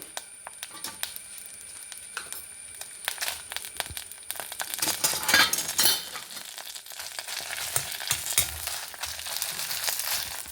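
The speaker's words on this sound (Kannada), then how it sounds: "ಸಾಸಿವೆ ಪಟಪಟ ಪಟ ಅಂತ ಇತ್ತು" Mustard seeds and fenugreek seeds spluttering in hot oil while spices are roasted for an Andhra-style gongura chutney, a steady crackling sizzle that grows busier and louder midway, with scattered sharp pops throughout.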